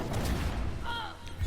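Explosion effect in the mobile game Marvel Strike Force: a dense broadband burst with low rumble, loud and close, followed by brief tonal chimes.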